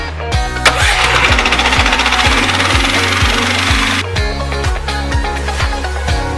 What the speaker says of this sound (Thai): เครื่องสตาร์ทติดแล้วรอสัก 3-4 นาทีนะครับ